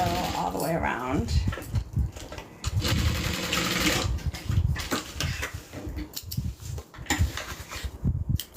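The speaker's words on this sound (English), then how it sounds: "So we're gonna go ahead and sew that down. And I'm just gonna sew all the way around." A sewing machine runs in steady close bursts while stitching all the way around the back panel of a backpack, with brief pauses and handling noise between runs.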